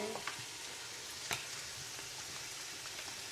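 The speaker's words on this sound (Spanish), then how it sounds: "Ahora sofreímos un poco las verduras." Vegetables frying gently in oil in a pan, a soft steady sizzle with a few faint clicks of stirring, fairly quiet and close, no talk.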